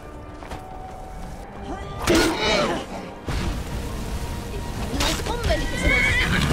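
A horse in Skyrim neighs loudly several times, with hoof clatter and game-like thumps around it and a person talking excitedly over the top.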